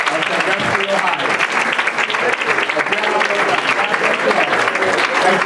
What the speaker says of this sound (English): Let's give Pastor Darden and Farrar another rousing round of applause for the Black history of Sandusky, Ohio.